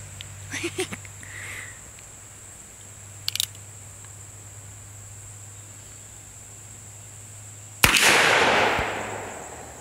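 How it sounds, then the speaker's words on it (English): A single sharp, loud .357 Magnum gunshot from an Uberti Cattleman revolver fired standing outdoors, with a short, strong decaying report after a long quiet stretch and faint insect chirping in the background. "I'm gonna shoot this last round, see if I can hit the thing"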